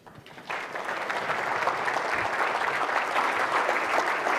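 Applause rising quickly from a quiet start as an audience welcomes former Swedish Prime Minister Carl Bildt, then holding as a dense, steady, fairly loud wash of clapping.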